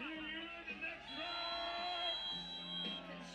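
A crowd at a snow volleyball European Championships men's gold medal match whoops and cheers through a steady wash of noise, with a raised held shout and music-like tones underneath, fairly distant.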